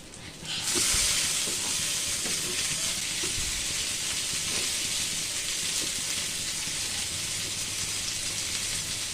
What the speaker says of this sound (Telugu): ఎంతో రుచికరమైన మసాలా ఫిష్ ఫ్రై రెడీ అయిందండి.